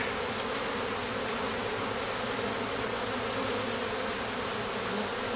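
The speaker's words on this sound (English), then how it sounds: "I don't know if you've ever been in the middle of a swarm of bees, but that buzzing, like the is like a primal thing." A swarm of honeybees around queenless hives produces a dense, continuous buzzing that stays steady and loud for the full stretch, with no voices and no pauses.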